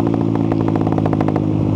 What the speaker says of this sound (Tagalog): Yung pangalawa naman is rapid backfire.